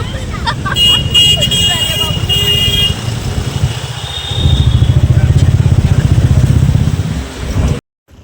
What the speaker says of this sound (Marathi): बाईक आमची मागे आहे